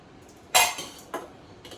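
Cooked rice stirred into sautéed carrots in a pan, heard as a few sharp clinks and scrapes of a spoon against metal, one loud and close, then two softer ones.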